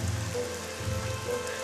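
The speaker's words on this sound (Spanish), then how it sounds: "Pero no se va a ir con este granizo." A hailstorm brings a steady, dense patter of hail striking surfaces, heard fairly faintly and continuously with no one talking.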